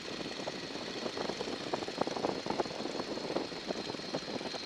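Light aircraft piston engine throttled back to about 1,500 RPM in flight, a steady droning hum with faint propeller buzz heard from inside the cabin, continuous and moderately quiet with no talk.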